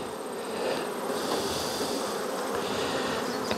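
Honeybees swarm around an open beehive on an overcast day, a steady dense buzzing that stays close and loud throughout with no talking.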